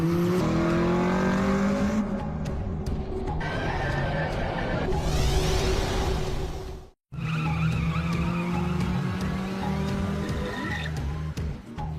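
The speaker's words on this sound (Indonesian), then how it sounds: "Dia terlihat sangat expert ngedrip di tikungan dengan sangat stabil." A Toyota AE86 drifts through mountain corners in an Initial D film scene, with loud engine revving and squealing tires sliding through turns, a brief cut of silence midway, then more skidding and engine roar under faint talk.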